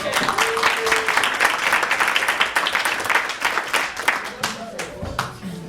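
A student senate meeting gives Raul a round of applause after adjournment: sustained dense clapping from a roomful of people, with voices mixed in, fading toward the end.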